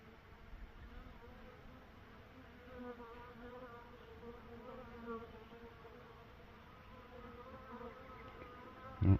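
Honeybees buzz in a continuous close drone, a dense hum of many wings with no talking.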